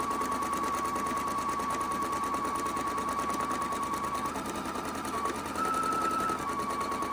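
A sewing machine runs steadily, stitching the long seam of a cotton apron folded right sides together, a continuous close mechanical whir with a slight change in pitch toward the end, no voices.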